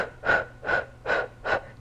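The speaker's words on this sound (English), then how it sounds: "Inhale." A person inhales during a Pilates core workout: four close, evenly spaced breaths, each a soft rushing swell of air with a steady rhythm.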